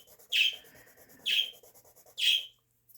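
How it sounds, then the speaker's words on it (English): Three bright bird chirps ring out at roughly one-second intervals, each a sharp descending tweet over a quiet, faintly rustling background. "The birds have woken up."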